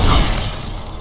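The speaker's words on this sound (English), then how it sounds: "break the glass wall to enrage" In Halo 2, a glass wall breaks with a single loud, brief crash that settles into a dull rumble.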